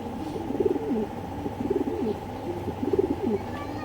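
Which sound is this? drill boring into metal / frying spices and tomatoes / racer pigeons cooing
racer pigeons cooing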